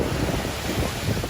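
Ocean waves breaking and washing onto a cold-water beach, a steady broadband rumble and hiss with gusty wind buffeting the microphone, close and continuous with no talk.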